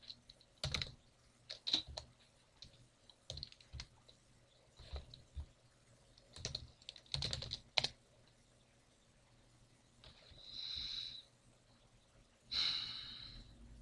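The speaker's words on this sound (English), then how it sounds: "I'm just going to type in the address." Quiet computer keyboard typing in short irregular bursts of key clicks, close up, with a couple of soft breaths or sighs between bursts.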